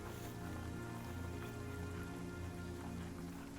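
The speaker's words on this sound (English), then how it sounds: "As the drizzle gets thicker and comes heavy plops of rain" Steady rain on a surface, a dense even patter of drops with slightly heavier plops mixed in, constant and moderately close with no voices.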